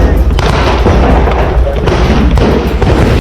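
Loud, rapid bursts of gunfire from soldiers in the Israel–Hamas fighting crack and boom one after another, with heavy low rumbling throughout.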